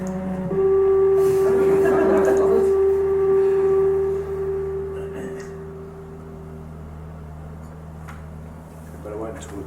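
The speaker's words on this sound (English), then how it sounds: "it changes to this electronic sine wave that gradually increases in pitch as the film progresses" A pure electronic sine-wave tone from a film soundtrack holds steady and loud for several seconds, with a faint tonal layer drifting in pitch beneath it, then thins to a quieter sustained hum with low background noise.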